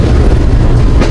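The Green Line Express runs on the Islamabad to Karachi line, heard from on board as a loud, dense rumble of wheels on rails with steady clatter.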